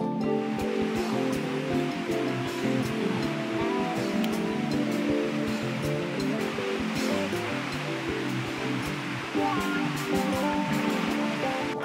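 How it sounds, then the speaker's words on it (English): A raging waterfall in Squamish pours among dangling icicles on a frozen falls, a dense, steady roar of rushing water that fills the scene continuously and loudly, with no voices. "Being beside this raging waterfall with all these icicles dangling over your head"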